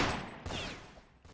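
Gunfire in the Roblox Fortnite shooter game, a dense burst of shots right at the start, then a second sharp blast trailing off with echoing decay, loud and close with no talk.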